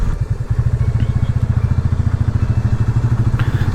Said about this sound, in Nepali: बाइक एकदम हल्लिरहेको